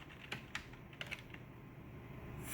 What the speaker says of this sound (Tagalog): So i-type nyo sa terminal